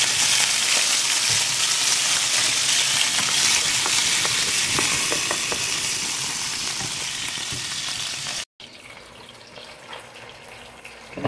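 Potatoes fry in a hot pan for mutton caldereta, a loud, steady, close sizzle with faint stirring scrapes, breaking off abruptly and returning quieter for the last few seconds.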